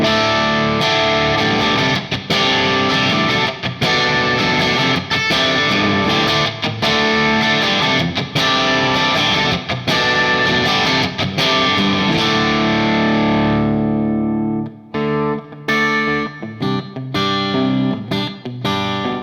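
An electric guitar with a Bare Knuckle PolyPaf humbucker in split-coil mode gives a bright, thin, Telecaster-like tone with some grit, strumming ringing chords, then breaking into short choppy stabs near the end.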